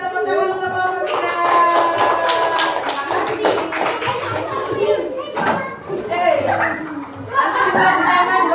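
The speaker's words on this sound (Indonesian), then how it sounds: "kita tepuk tangan untuk kelompok 3" Pupils in a classroom clap for a group of classmates, with bursts of hand claps mixed with children's voices chattering and calling out over the top.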